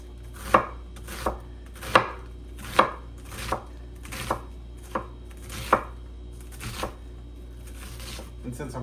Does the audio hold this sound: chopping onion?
yes